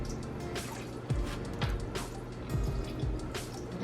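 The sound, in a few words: water being poured into a cooking pot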